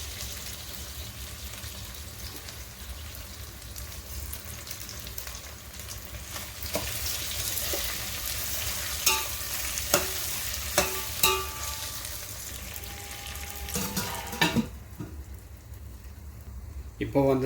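Tomatoes and onions sauté for an Ayala fish curry, a steady sizzling hiss in the pan with scattered clicks and scrapes of stirring, moderately close, quieting near the end as a voice murmurs faintly.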